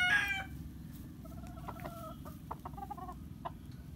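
Boston Roundhead rooster clucking and crowing nearby, with a brief loud burst at the start followed by repeated short clucks and calls over a steady low background.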